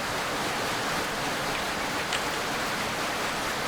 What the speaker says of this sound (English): maybe the ambient sounds of the environment are quieter, like the rain